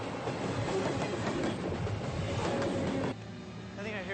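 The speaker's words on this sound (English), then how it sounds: "I think I hear a train." A train rumbles and clatters steadily along the tracks in the outdoors, loud and continuous, then drops to a quieter, distant rolling sound near the end.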